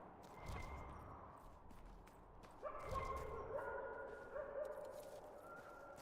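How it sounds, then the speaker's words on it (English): Dogs barking and yipping in the background of the video game Dragon Age: Inquisition, several distant, faint barks and whimpers over a low ambient game soundscape. "like the noises, like the dogs in the background, very good"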